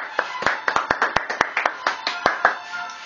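Applause at a prize draw: a small group claps by hand in uneven, sharp bursts, a dozen or so distinct close slaps over a softer patter, fairly loud, with voices murmuring underneath.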